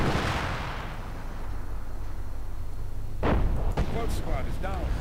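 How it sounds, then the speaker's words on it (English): Artillery shells hammer down in a WWII strategy video game, with a heavy rumbling blast at the start and sharper explosive cracks later, under a steady battle din and a voice talking. "getting hammered with artillery, obviously"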